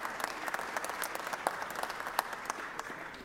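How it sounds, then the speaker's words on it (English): Applause in the Georgia Senate chamber for a group of softball players, a steady crowd of hands clapping with some sharper individual claps standing out, moderately close. "So give them all a round of applause,"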